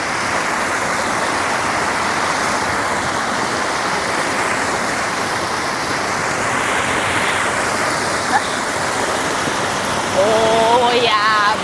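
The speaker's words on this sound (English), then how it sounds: "I need to feel the running water. It's so loud." A cold stream tumbles loudly over rocks at Sculpture Falls near Austin, Texas, a dense, steady rush of water filling the whole clip, with a brief voice near the end.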